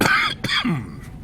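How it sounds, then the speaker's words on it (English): A lingering cough left over from a cold: two or three harsh, throaty coughs and throat-clearing bursts close up, with a short voiced sound between them. "Continues to leave me with this bit of a cough"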